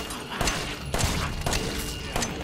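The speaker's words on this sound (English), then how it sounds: "I'm gonna use the pistol here." Pistol fire in the survival horror game Resident Evil 7, several sharp shots spaced roughly half a second apart, punchy and close, over a busy game backdrop.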